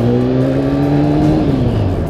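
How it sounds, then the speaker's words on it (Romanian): A motorcycle engine revving at night on a ride, a loud, steady drone whose pitch holds and then sags slightly toward the end, with no talking. "să nu zică lumea că turăm motoarele noaptea"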